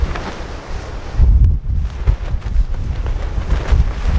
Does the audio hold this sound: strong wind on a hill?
yes